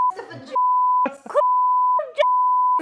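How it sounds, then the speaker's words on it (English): Loud steady tone beeps cut repeatedly across talk, three long bleeps alternating with brief bursts of a voice. "I'm gonna have to beep out like half of that."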